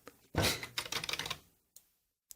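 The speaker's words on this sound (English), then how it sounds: "Are you typing up the rest of the episode?" Rapid clicking and clacking of keys on a computer keyboard, typed in quick bursts with short pauses and a few isolated strokes at the end, close and clear with no talking.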